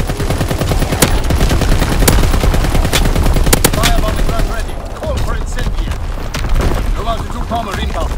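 Heavy artillery battery fire in a WWII-era Call of Duty match, with dense booming impacts and rattling gunfire throughout, loud and continuous, with game radio voices speaking over the barrage.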